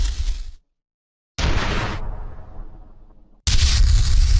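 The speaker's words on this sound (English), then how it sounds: "I edited numerous sound files of different types of explosions from my sound libraries" Layered explosion sound effects for a game demo: two loud, close booms. Each one is a sharp, broadband burst. The first decays into a long rumbling tail, and the second follows after a brief silence.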